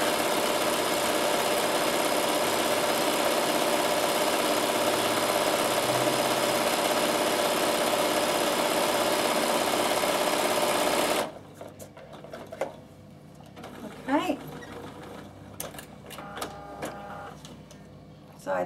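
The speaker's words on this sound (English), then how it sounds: "I'm going to sew all the way down the other side, just so it looks nice and even." A sewing machine stitches fabric for a produce bag made from a fat quarter, a fast steady whirring run for about eleven seconds, then stopping, followed by faint handling clicks and rustles.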